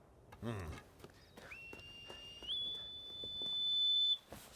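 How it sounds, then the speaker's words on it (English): A sustained, slightly rising whistle holds a steady high tone for a couple of seconds, preceded by a brief voice and light knocking in the background. "It sounds like the goat herd's whistle."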